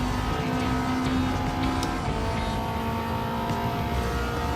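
Steady engine drone of a Subaru STI being driven in Gran Turismo 7, a continuous loud hum with faint tonal whine throughout, no pauses or talk.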